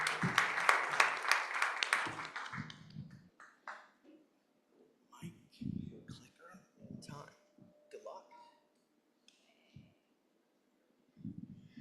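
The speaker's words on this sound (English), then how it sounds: "Please come on up and give them a warm round of applause." An audience at a tech sprint event gives a burst of applause, dense clapping for about two seconds that quickly fades, followed by a speaker talking with pauses.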